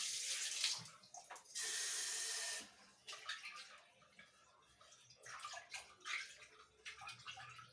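Tap water runs in bursts into a sink while dishes and utensils are scrubbed and rinsed, with splashing gaps, brief clatters and a steady gush in the middle, close and fairly loud.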